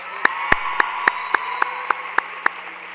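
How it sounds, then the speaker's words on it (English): Sparse, evenly spaced claps ring out over a steady hiss at a high school graduation ceremony, about ten sharp hand claps, moderately distant. "Can we give Lyric, Shyla, Yanni, and Imari another round of applause?"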